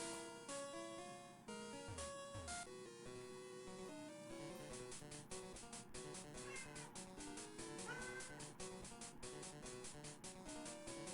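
A cat's meow rises faintly through continuous loud music with a strong beat, which dominates and masks the animal throughout.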